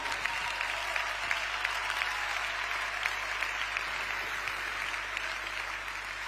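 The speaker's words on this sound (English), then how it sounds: "big round of applause for Dr. Varga." An audience at a convention on essential-oil science gives a steady round of applause. It is sustained and even, heard from a distance in a large hall, with a low hum underneath.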